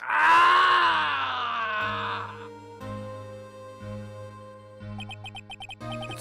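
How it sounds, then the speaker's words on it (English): A loud, wavering human scream from the video game Phoenix Wright: Ace Attorney lasts almost two seconds and fades into low, sustained game music tones, with brighter plinking notes toward the end. "It's that scream I heard in the elevator 15 years ago."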